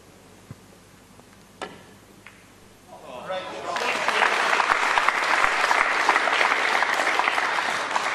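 A crowd at a pool match between Omar AlShaheen and Shane van Boening breaks into loud, sustained applause after a few seconds of near quiet with faint ticks, and the clapping holds strong to the end.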